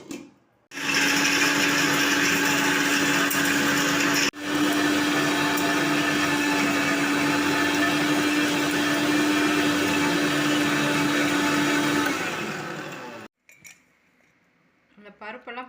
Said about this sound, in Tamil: இப்போது இந்த வறுத்து வச்ச பருப்பு எல்லாத்தையும் மிக்சி ஜாரில் போட்டு நல்லா பொடி பண்ணிக்கலாம்.